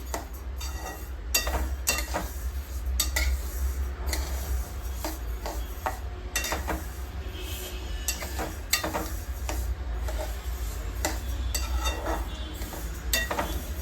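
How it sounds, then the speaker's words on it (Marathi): Sesame seeds roasting in a pan for tilgul ladoo, stirred continuously with a metal spoon that scrapes and clinks against the pan in a steady, close rhythm, with a low background hum and no talking. "आपण हे तीळ आधी भाजून घेऊया व्यवस्थित"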